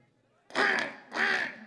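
A voices a crow imitation in place of a cuckoo call: two loud, harsh, nasal caws close to the mic, each about half a second long with a short gap between them.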